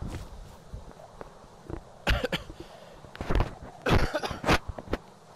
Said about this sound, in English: Smoker's cough.